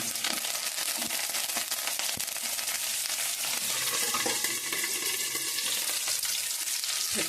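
Curry leaves sizzle in hot tempering oil, a steady bright crackle with a few sharper pops and stirring scrapes, close and continuous with no talking.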